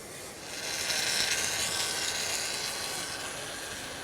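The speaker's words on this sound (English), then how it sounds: "And I'll start the arc now." Submerged arc welding with a PowerWave AC/DC 1000 SD power source, WTX flux and two 3/32-inch electrodes at a trade-show demo makes a steady, bright hiss that swells in after a quiet start and holds evenly throughout.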